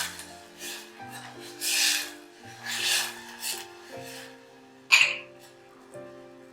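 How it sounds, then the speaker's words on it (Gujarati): Spices, including half Kashmiri and half regular red chilli powder, being stirred into spiced Gujarati vaghariya rice in a pan: a few soft scraping, rasping strokes with one sharper knock near the end, over steady background music. "મિક્સ કરીએ।"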